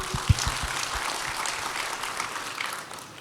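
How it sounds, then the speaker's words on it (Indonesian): Applause from a church congregation: a few heavy, close claps open the moment, then a steady wash of clapping that gradually fades toward the end. "Tepuk tangan yang kenceng dong"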